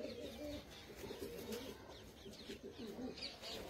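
Several loft pigeons coo steadily in low, bubbling repeated calls, faint but continuous, with occasional brief higher chirps over a soft background hiss.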